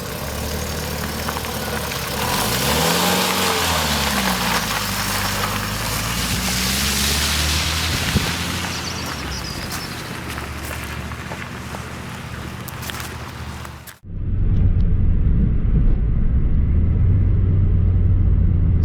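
A Peugeot 205 GTi with its 1.6 engine, heard from on board while driving: a steady engine drone and road rumble that rises and falls, then a sudden shift to a louder, deeper rumble near the end.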